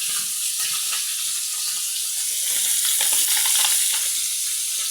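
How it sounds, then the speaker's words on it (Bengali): Local fish fries in hot oil over a village cooking fire, giving a continuous, dense crackling sizzle that swells slightly toward the end, with no talking. "এটি ভাজা হচ্ছে"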